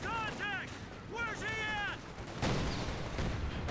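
Gunfire in a Company of Heroes 2 battle: bursts of shots and booming cannon blasts under a game caster's steady commentary, with harmonic squeals from units and a loud explosive stretch at the end.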